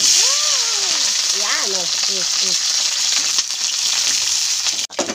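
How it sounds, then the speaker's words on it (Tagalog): Eggplant frying in oil in a pan, a steady broadband sizzle running throughout with a voice talking briefly over it near the start. "piprito ko na lang po itong talong"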